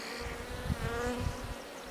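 Honey bees buzz around a newly set up hive, a close, continuous droning hum with several insects weaving near and away.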